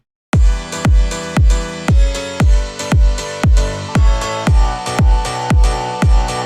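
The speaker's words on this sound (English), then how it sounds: "now what I have is this M1 chord piano. And if you listen to it, it's like an old school piano. I layer another chord and we listen" Layered chords from an old-school M1 piano patch repeat in a steady pulse of about a dozen punchy stabs, each with a bright attack and quick decay, loud and close with no voices.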